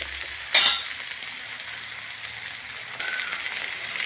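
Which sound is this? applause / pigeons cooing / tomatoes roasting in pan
tomatoes roasting in pan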